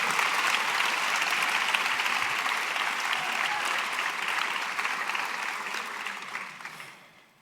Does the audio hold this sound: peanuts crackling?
no